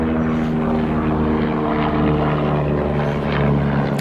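A propeller aircraft passes overhead above a backyard, its loud, steady engine drone and prop hum filling the whole stretch with no talking.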